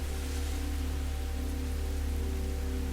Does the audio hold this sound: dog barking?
no